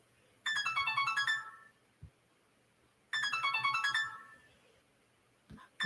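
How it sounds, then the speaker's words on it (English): An incoming call sets off a phone ringtone, two identical bursts of a bright melodic tune about three seconds apart, loud and close over a quiet room, with small clicks between. "that's a phone call I don't answer"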